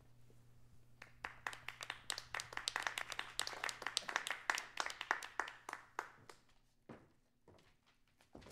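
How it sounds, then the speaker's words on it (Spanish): A small audience claps for a performer, scattered claps building into brisk, uneven applause that peaks midway and then dwindles to a few isolated claps, with a low steady hum underneath. "Aplaudir, por favor, un poquitito"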